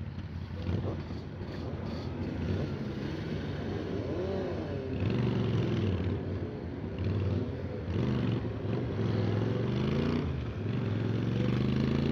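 A motorcycle laps Anglesey International Circuit while its rider warms the tyres; a loud, continuous engine drone rises and falls in pitch as it accelerates, wrapped in steady wind rush.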